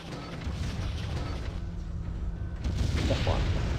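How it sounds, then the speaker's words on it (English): A game explosion from MechWarrior 3 rumbles as a broad, loud burst that swells near the end, with low booming energy over busy in-game noise. "There's the second explosion."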